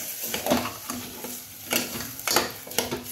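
Soaked Charminar basmati rice goes into a pot for masala bhat and is stirred: repeated scraping, stirring strokes with a light sizzle underneath, close and fairly loud.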